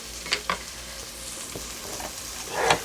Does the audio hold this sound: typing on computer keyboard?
no